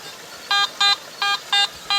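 Garrett gold metal detector giving a strong signal over a rock with metal hidden inside, a series of five short, bright electronic beeps in an even on-off rhythm over quiet background.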